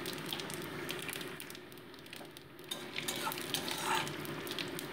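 Steady crackling sizzle of dried red chillies and five-spice seeds frying in hot mustard oil, continuous and close, with no talking.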